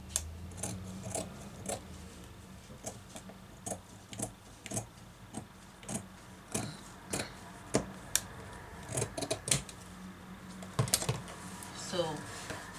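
Fabric being cut for a high-low flare pattern, with repeated sharp snips and crisp cutting strokes at close range, coming in irregular bursts, with a faint voice speaking in places.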